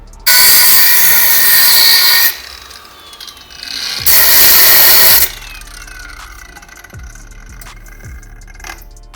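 Fuel pump bracket being tightened on a Toyota AE92 Corolla project car: two loud bursts of a power tool whirring for a couple of seconds each, then quieter metallic clicks and clinks of parts and tools.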